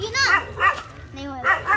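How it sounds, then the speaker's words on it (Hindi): A dog barks three times in short, fairly close yelps, spaced out with a whine-like tone between them. "ये डॉग देखिए हमें देख कर भौंक रहा है"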